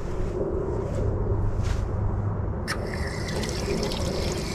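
Water draining from the pressure relief valve of an Airstream trailer's water heater, a steady close splashing trickle with a brief brighter spurt partway through, no voices.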